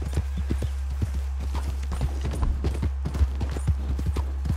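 Horse hooves clip-clopping at a steady riding gait in Red Dead Redemption 2, close and rhythmic over a constant low rumble, with no talking.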